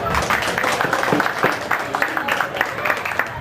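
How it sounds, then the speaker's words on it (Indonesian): An audience at a 2013 Indonesian Independence Day neighborhood gathering breaks into steady, dense applause, many hands clapping together continuously at close range. "Silakan aplaus."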